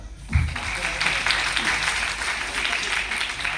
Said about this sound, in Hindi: आप लोग ताली बजाते रहिए जब तक मैं शुरू ना हो जाऊं।